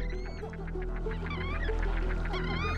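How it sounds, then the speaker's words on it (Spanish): Giant coots on a high-altitude Altiplano desert lagoon give repeated honking, trumpeting calls, several birds overlapping over a steady low background hum, moderately distant and continuous. "Y esto lo apreciaban de manera muy especial las tahuas gigantes, sin duda los habitantes más característicos de la laguna"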